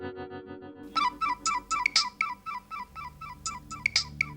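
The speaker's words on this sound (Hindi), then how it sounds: "अननोन नंबर, लगता है किसी फिल्म स्टार का फोन है।" A phone ringtone sounds for an incoming call from an unknown number, a bright electronic melody repeating in loud, evenly spaced bursts after a brief lead-in, with no talking over it.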